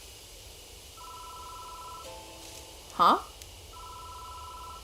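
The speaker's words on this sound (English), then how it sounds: "The phone starts ringing out of nowhere." A telephone rings in the Death Mark video game as a repeating electronic trill in short bursts, pausing briefly when a voice gives a quick startled exclamation, then ringing again.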